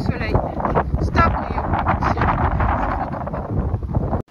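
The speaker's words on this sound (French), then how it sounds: "il y a toujours ce vent glacial et ça caille grave" Icy, freezing wind blows hard across the microphone outdoors, a steady rough roar that persists throughout with brief gusting peaks, while a person speaks over it.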